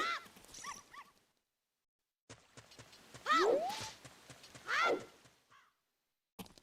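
A dog in the video game Ocarina of Time gives short yelping, whining barks in bursts, separated by silences, with game sound effects around them.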